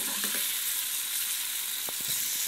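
Sausage sizzling in a hot pan for white-sauce pasta, a dense steady hiss of frying with a few scraping stirs, close up and without any voices.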